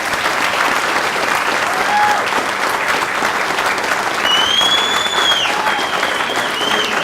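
Sustained, loud audience applause for a fire department chief engineer marking 50 years of service, with a few whistles rising above the clapping.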